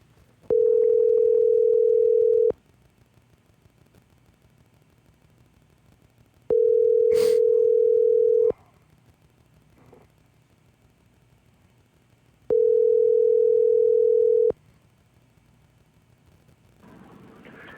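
A telephone ring-back tone sounds while a call is being placed, giving three evenly spaced long electronic beeps with quiet gaps between them and a faint click partway through.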